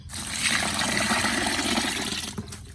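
Homemade rice milk made from rice boiled into porridge pours steadily into a container. It makes a loud, continuous splashing gush for nearly three seconds before it tapers off.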